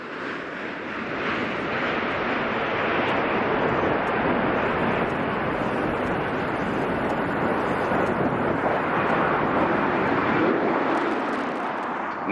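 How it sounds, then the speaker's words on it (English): Space Shuttle Discovery landing on the runway at the end of its final flight, a loud, continuous broadband roar of rushing air and rumble sustained from start to finish. "Main gear touchdown. The nose of the shuttle being rotated down toward the flight deck."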